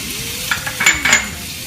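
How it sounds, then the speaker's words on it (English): Chopped onions with garlic softening in a hot pan for grass-fed meatballs, a gentle close sizzle broken by a few quick scrapes and clinks of a spatula, with no talking. "want to sweat the onions off to soften them before we put them into the meat mixture"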